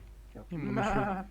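A goat in the video game Barony lets out a short, wavering bleat, close and clear over a low steady background hum.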